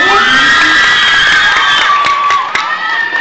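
A loud, dense crowd yelling and cheering continuously, with high-pitched shrieks and whoops layered over one another throughout.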